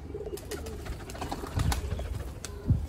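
Large pigeons in a loft coo in low, repeated murmurs, with several overlapping birds and a few louder throaty bursts near the end.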